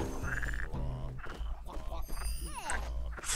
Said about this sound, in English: Frog-like noises